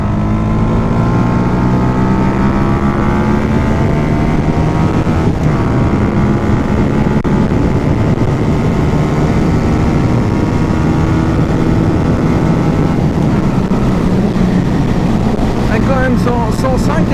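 A Masai Greystone 125 motorcycle pulls in third gear along a dual carriageway. Its engine drones loud and steady under wind rush, and the pitch climbs gradually as it accelerates toward the end.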